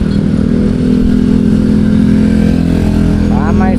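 Motorcycles and cars on a busy road in Puncak 2 Sukamakmur, with a steady close engine drone and rumble throughout, plus a rising rev near the end and a voice speaking over the traffic.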